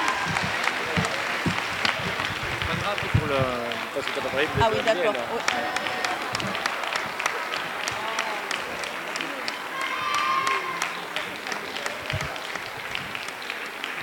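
A talent-show crowd applauds a stage troupe with thin, scattered clapping under lively chatter and voices, continuing at an even moderate level throughout.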